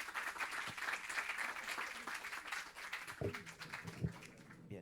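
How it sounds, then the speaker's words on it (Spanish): An audience at a Spanish heritage-language teaching workshop gives quiet, sustained applause, soft clapping heard from a distance with a few brief thuds near the end. "Un aplauso, por favor."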